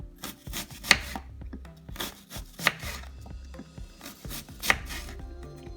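A knife cuts raw garlic into thin slices on a board, several crisp close chops in an irregular rhythm with soft rubbing between them, and no talking.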